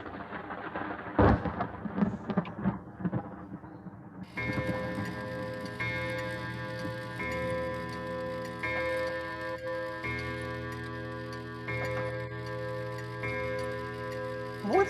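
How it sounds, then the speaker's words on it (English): A clock chimes through a dark stormy night, its ringing strokes sustained and overlapping after a rumble of thunder and rain at the start. "Just before the clock started to strike"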